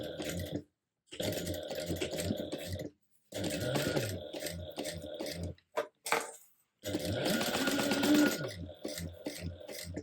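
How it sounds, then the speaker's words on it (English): A sewing machine stitches a 1/4 inch basting seam in several close bursts of steady mechanical whirring, separated by short silent pauses. "And now we're going to sew this down with I'm going to base it down with a 1/4 inch seam allowance"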